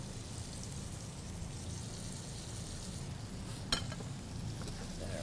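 Sliced red onion frying in butter in a pan, a soft, steady sizzle under quiet kitchen clatter, with one brief sharp clink midway.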